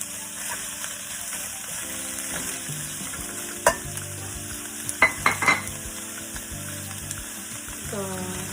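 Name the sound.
sautéing vegetables for lumpia in a pan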